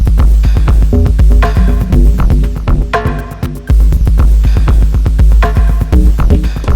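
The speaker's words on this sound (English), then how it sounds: "Put some reverb on the snare." A loud looping beat from an Elektron Digitakt 2 drum machine, punchy snare hits trailing off in reverb tails over a deep thumping low end, no voices.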